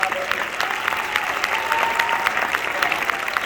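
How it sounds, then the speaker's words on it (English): An audience applauds steadily and fairly loudly at a National Council of Negro Women address, with a dense, even stream of many hands clapping and a murmur of crowd voices underneath. "Come on, one more applause."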